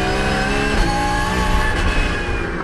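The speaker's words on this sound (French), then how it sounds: "Les Porsche Itris Racing des Suisses Winkler et Pfister se suivent" Porsche race cars of the Swiss Itris Racing team run nose to tail around the 3.15 km Ledenon circuit, a loud, continuous engine roar with steady revving that rises slightly as they pass close by.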